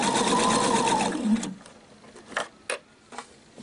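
Sewing machine stitching a bias-cut skirt seam, a close steady hum for over a second that stops, followed by a few light clicks and fabric handling sounds.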